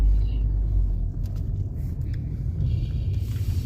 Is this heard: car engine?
yes